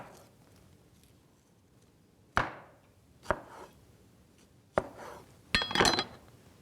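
Fresh strawberries are sliced on a cutting board with a knife, four or five crisp, separated chops at irregular intervals over a quiet kitchen background, the last one a brief double knock.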